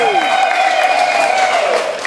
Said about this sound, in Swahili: Vigeregere na makofi kwa tafadhali.